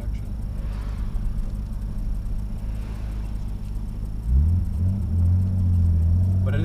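A Nissan R32 Skyline engine gives a low, steady rumble from inside the car. Partway through, the revs climb and the engine note rises and strengthens as it accelerates at high RPM.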